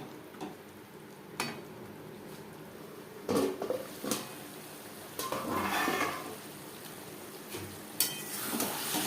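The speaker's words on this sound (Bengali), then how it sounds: "ছোলার সাথে মশলা বেশ ভালো করে মিক্স করে দেবো" Chickpeas and spices for a vegetarian chana masala stirred in a pan over a medium gas flame, with scattered scraping clicks and a soft sizzle rising and falling across the stretch.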